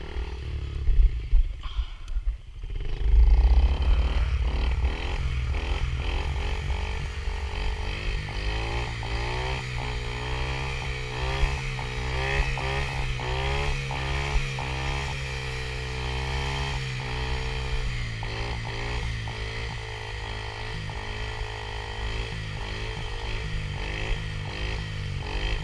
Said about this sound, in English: just popping some little wheelies and stuff